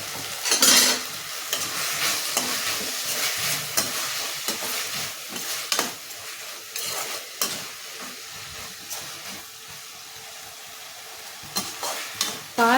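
Tomato kurma masala frying in a pan, a steady close sizzle broken by repeated scraping stirs of a spoon against the pan, with no talking.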